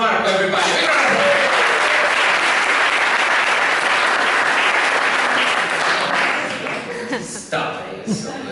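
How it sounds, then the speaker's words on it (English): An audience breaks into loud, sustained applause that fills the room for several seconds before tapering off into a few scattered claps near the end. "Big round of applause."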